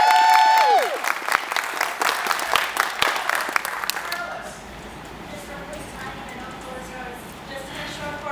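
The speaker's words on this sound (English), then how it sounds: "Let's get a round of applause" Audience applause for a Broomfield High School engineering team at a MESA Nationals prototype pitch event, loud dense clapping that peaks in the first few seconds and then thins to a softer, scattered patter.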